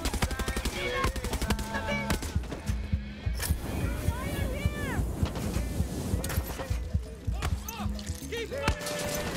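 Rapid enemy gunfire in Far Cry 6, bursts of automatic shots cracking close and loud over a dense game mix, with a person talking throughout and meow-like cries mixed in.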